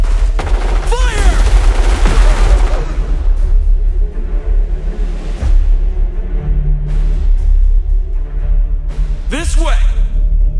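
Gunfire from a squad of troopers in the Starship Troopers: Terran Command strategy game, a dense, sustained barrage of bassy shots and booms running the whole stretch, with shouted voice commands over the top.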